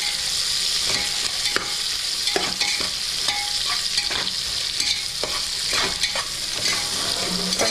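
Onions being sautéed in a pressure cooker for ghee rice give a constant loud sizzle, with rhythmic scraping and tapping of a spoon against the metal base throughout.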